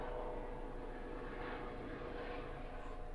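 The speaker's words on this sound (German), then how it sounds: "da fliegt wohl mal ein Flugzeug vorbei" A fixed-wing airplane passes overhead as a steady broadband engine roar, fairly faint and distant, swelling slightly midway and holding level for the full three seconds with no talk.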